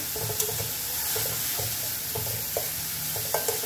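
Steady sizzling and crackling of onions frying in a pan, with a few soft clicks of a utensil stirring, close and continuous.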